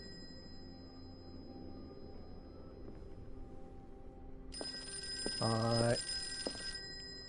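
An old-style telephone bell rings in a video game, one short burst of ringing over a quiet ambient music bed with steady tones, while a voice briefly speaks.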